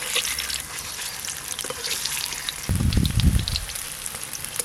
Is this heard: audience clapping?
no